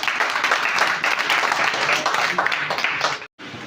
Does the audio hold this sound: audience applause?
yes